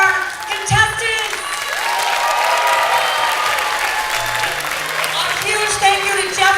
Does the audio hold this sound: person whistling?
no